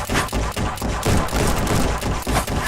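Rapid gunfire from the VR shooter Guns'n'Stories: Bulletproof, as a loud, dense burst of repeated shots in quick succession, filling the whole stretch with no talk.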